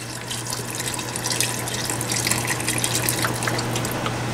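Beef stock being poured into a can cooker, a steady continuous liquid rush and splash close by, with a low constant hum underneath throughout.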